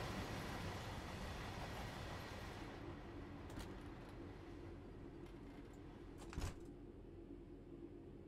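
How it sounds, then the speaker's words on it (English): A long freight train rolls past in the Train Sim World 3 game on the Glossop Line, a steady loud rumble of wagons that continues throughout, with a few brief clanks and squeals near the end. "That's a long freight train."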